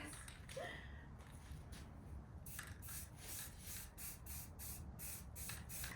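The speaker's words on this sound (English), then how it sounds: "This spray paint must be older" Steady hissing spray from an old spray paint can with short bursts of sharper, brighter sputtering, close by and continuous, with faint rustling underneath.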